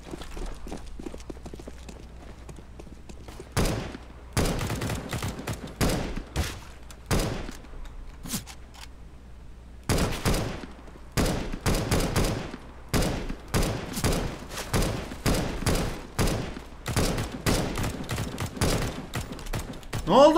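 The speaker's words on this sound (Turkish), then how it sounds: "Bak şimdi hepsini takır takır vuruyorum." Rifle gunfire in the game CS:GO comes in loud, sharp bursts of rapid shots separated by short pauses, growing denser toward the end, with no voices over it.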